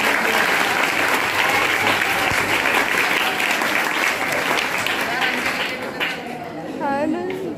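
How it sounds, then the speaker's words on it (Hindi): Loud, sustained clapping from an audience at a school math and science workshop and felicitation ceremony, a dense steady wall of applause that tapers near the end as a voice starts speaking. "तो जोरदार तालियां से"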